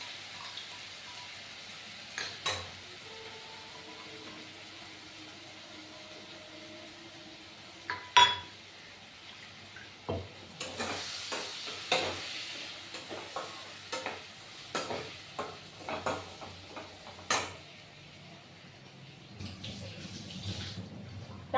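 Spice paste fries in a pan for a curry with turmeric, cloves and cardamom. Scattered stirring scrapes and taps sound over a faint sizzle, quiet and intermittent, with no speech.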